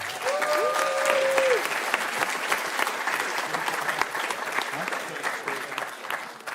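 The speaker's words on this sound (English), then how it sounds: "So congratulations, round of applause." Audience at a hackathon closing ceremony applauding, a dense continuous patter of many hands clapping at moderate distance, tapering toward the end, with a brief voice heard over the start.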